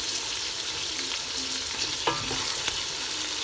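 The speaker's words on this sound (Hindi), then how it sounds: "और अब हम इसे अच्छी तरह से मिक्स कर लेते हैं" Garlic ginger paste and chopped tomatoes being stirred in a frying pan, a steady sizzle with a few spoon scrapes and taps against the pan, close and alone.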